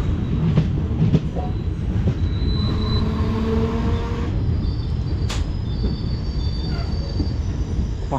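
A passenger train on the Karaikal to Chennai route rolls along with a loud, steady rumble, shrill wheel squeals rising over it and faint clicks from the track, heard from on board.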